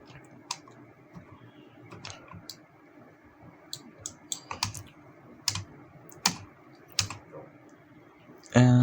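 Computer keyboard keys and mouse buttons click while 3D modeling in Maya, a sparse, irregular run of close, crisp taps and clicks over a quiet background hum.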